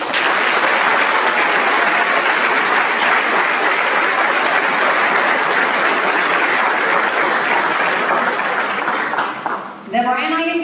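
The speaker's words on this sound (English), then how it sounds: "Let's please give a round of applause for our generous donors." Sustained applause from an audience at a school district scholarship night honouring donors, a dense, loud wash of clapping that runs steadily for about ten seconds before fading.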